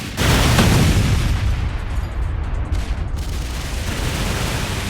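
A loud, booming blast from an explosive uppercut attack in the Roblox fighting game Anime Battle Arena (ABA) erupts at once and rumbles on as a sustained, noisy roar.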